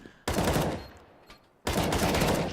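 Gunfire in a Counter-Strike match: two sharp, loud shots or short bursts, the first after a brief quiet and the second a second or so later, each ringing out with a decaying tail.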